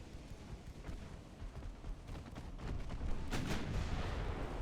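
Naval gunfire in Ultimate Admiral Dreadnoughts during a battlecruiser engagement: a dense continuous rumble of booming shots with a louder blast near the end, steady and heavy throughout.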